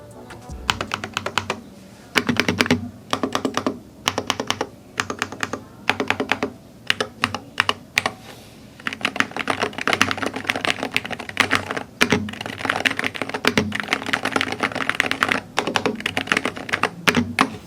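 Rapid typing on a Womier SK75 TMR mechanical keyboard, with dense bursts of clacky keystrokes broken by short pauses. The sound is close and fairly soft, with no voices.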